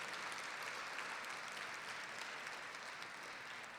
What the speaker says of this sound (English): Join me in giving them a round of applause tonight